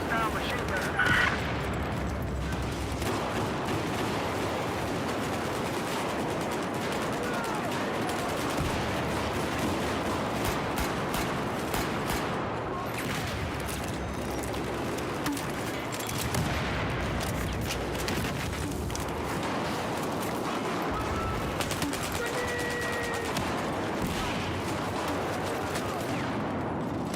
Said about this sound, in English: Looks like there's a hostile machine gunner.